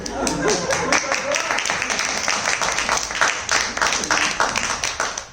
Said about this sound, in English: Can we give a big applause for her?